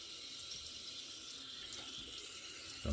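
Tap water runs steadily into a bathroom sink, rinsing away freshly trimmed beard hairs, a constant, moderately quiet hiss with a brief clunk at the end.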